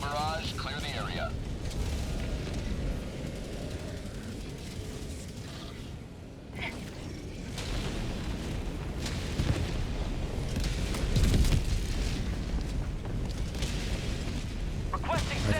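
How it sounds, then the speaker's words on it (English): Orbital barrage in Helldivers 2, a continuous rumble of heavy booming explosions with bursts swelling louder toward the end, while a player talks over it. "Requesting orbital. Firing orbital barrage."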